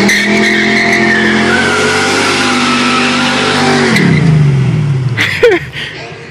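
A Mustang spins its tires in a Food Lion parking lot, with a loud high engine rev and screeching tire squeal that hold for several seconds, then drop as the engine winds down, followed by a brief sharp scrape.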